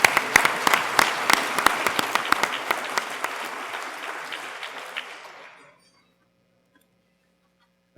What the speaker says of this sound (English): and now an applause for all of them